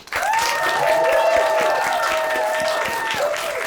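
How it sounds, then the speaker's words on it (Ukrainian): A studio audience at a comedy roast battle breaks into steady applause, dense clapping that holds loud and even for a few seconds, with a sustained tonal music note running underneath. "прошу ваші оплески е, Максиму Кравцю"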